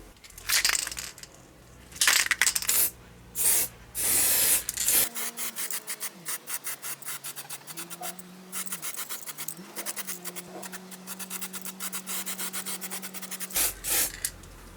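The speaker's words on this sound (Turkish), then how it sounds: "Şimdi astar uygulamasına geçiyoruz." A spray can applies primer to a masked car door for a local touch-up repaint, giving a series of short, sharp hissing bursts up close, followed by quieter intermittent rubbing and scraping.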